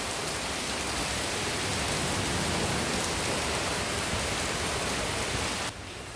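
Rain falls steadily outdoors in breezy Jamaican weather, a dense, loud hiss of drops that continues without pause before easing slightly at the very end.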